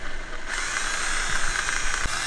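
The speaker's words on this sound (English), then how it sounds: "Now we can drill into the carbon." A power drill bores into a carbon fiber car trunk taped with masking tape, a loud steady high-pitched whine that starts abruptly and holds at constant speed, with a brief knock near the end.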